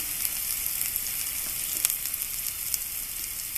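Curry leaves dropped into hot oil for a spiced egg fry, giving a loud, continuous close sizzle with scattered sharp crackles and pops; no talking.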